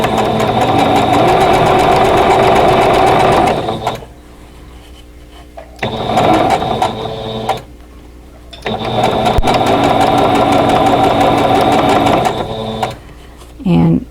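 A sewing machine stitches quilt block seams in loud, steady runs broken by several short pauses, very close and dominant, with a voice talking faintly in the background.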